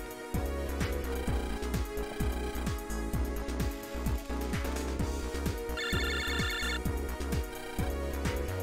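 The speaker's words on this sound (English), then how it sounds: "It's the phone." Phone ringtone in the Megaman Battle Network 5 Double Team DS video game, a short electronic ring chiming over loud, steady game music with a driving beat.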